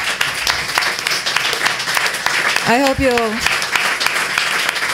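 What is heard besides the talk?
audience applause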